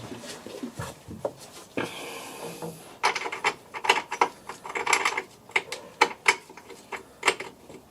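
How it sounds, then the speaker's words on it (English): A tap cuts threads into a tight bolt hole on a Porsche 911 996 C4S, giving close, rhythmic metallic scraping and grinding strokes that repeat with short pauses between turns. "So I'm going to run a tap through it."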